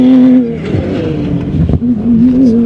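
A Dakar rally car in Saudi Arabia passes fast on a desert track about ten metres away, its loud engine note rising and shifting in pitch as it goes by.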